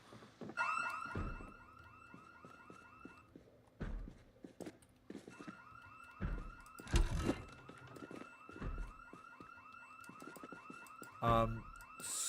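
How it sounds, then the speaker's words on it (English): Car alarm blaring in Project Zomboid, a looping electronic whoop-and-chirp pattern cycling repeatedly, broken by heavy thuds and impacts, loud and close with no talking. "So confused why the alarm is going off."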